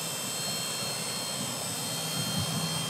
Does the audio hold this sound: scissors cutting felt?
no